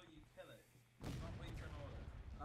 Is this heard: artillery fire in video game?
yes